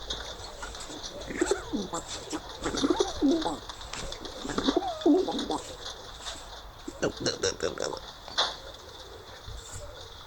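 Pet birds, apparently pigeons or doves, cooing and calling nearby in a room, repeated soft calls with a person speaking over them.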